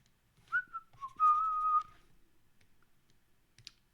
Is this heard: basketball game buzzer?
no